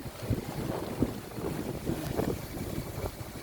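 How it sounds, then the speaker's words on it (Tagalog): Strong monsoon wind buffets the microphone in a steady, roaring rush on the baywalk of Talim Island, Binangonan, Rizal, with choppy sea water and boat noise mixed underneath throughout. "ang lakas ng hangin"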